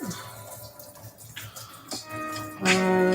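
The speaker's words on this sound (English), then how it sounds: "Garlic is done. I'm gonna rinse that." Tap water runs into a kitchen sink while garlic is rinsed under it, a soft splashing stream that swells louder and brighter toward the end.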